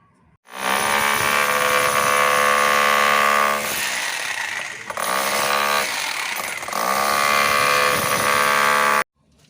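A power tool runs loudly and steadily while drilling at a knock-down bathroom installation, its motor whine sustained, dipping briefly mid-way, then resuming before cutting off abruptly near the end; no voices are heard.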